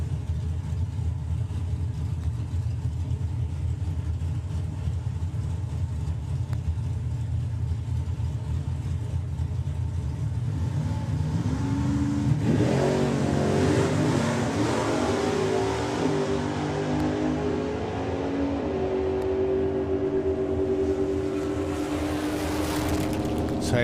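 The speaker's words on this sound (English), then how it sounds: "And the slightly newer model of Chevelle, it's Guy King. In the black Chevelle in the Auto Glim Lane" Chevrolet Chevelle drag cars launching at a drag strip race meeting, a steady loud engine roar that surges and rises in pitch midway as they accelerate away, with crowd-level background noise throughout.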